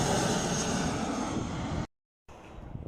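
A passenger jet airliner roars loudly overhead as a broad, steady engine rumble, which cuts out abruptly to silence before the jet noise returns more faintly.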